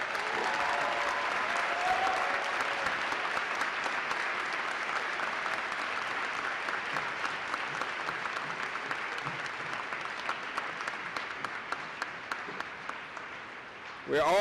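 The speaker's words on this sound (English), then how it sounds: "Let's give them all a round of applause, please." Sustained audience applause at a winter graduate commencement ceremony, a broad roaring wash of many hands clapping that holds steady, then thins to scattered claps before stopping.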